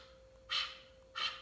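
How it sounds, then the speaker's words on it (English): Kapalabhati breath-of-fire yoga breathing: two sharp, forceful nasal exhales about two-thirds of a second apart, close and breathy, with a faint steady hum underneath. "one more time find that breath of fire, that Kapalabhati breath"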